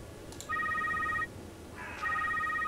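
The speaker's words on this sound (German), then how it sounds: "Oh, ein Telefon." A telephone rings inside the video game The Secret World, two clear electronic ring bursts separated by a short pause, fairly quiet over a faint background hiss.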